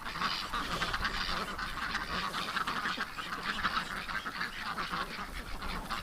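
A dense flock of geese honks continuously, a busy, overlapping chorus of calls that stays steady and fairly close throughout.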